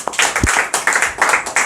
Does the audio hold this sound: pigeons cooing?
no